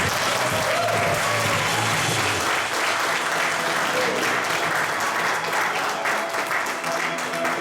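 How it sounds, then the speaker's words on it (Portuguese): Loud, sustained applause from a crowd, steady and full, with a low hum of voices in the background at the start. "eu gostaria que vocês recebessem com uma grande salva de palmas"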